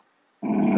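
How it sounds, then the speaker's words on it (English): A dog in Minecraft gives a sudden low, sustained growl with a whimpering edge. It starts abruptly partway through and stays loud and close to the end. "The dog doesn't seem very happy."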